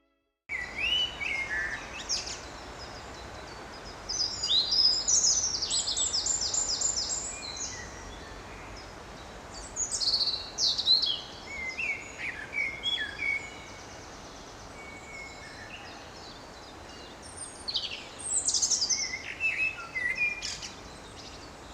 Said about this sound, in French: le rouge-gorge familier s'entend chanter tout le temps